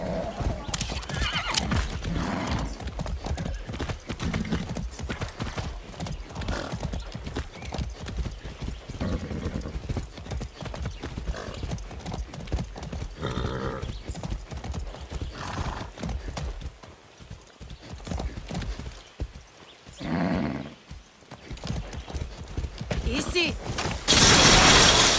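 In the video game Far Cry 6, rapid hoofbeats clatter steadily as a horse runs, with the horse whinnying several times, close and loud, and a brief blast near the end.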